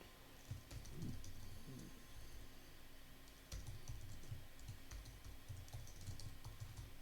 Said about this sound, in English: I'm going to take my caps lock off, and type Freedom Nation